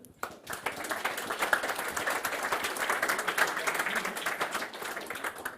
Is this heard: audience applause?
yes